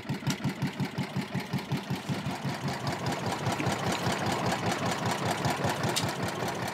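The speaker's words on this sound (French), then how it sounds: "Tu peux mettre le moteur qu'on avance?" A small fishing boat engine chugs close by with a fast, even putter in Malaysia, the rhythmic knocking steadying and growing slightly louder as it runs.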